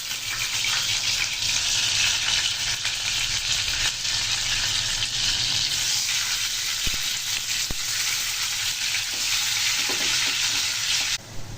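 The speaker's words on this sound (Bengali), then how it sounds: "এই তো ডিমটা আমি একটু লবণ দিয়ে মেখে নিছি, এখন ভাজবো ঘির সঙ্গে" Eggs frying in ghee, seasoned with salt, for a shahi egg korma: a steady, loud, close sizzle and crackle that continues without a break, with a couple of faint utensil taps partway through.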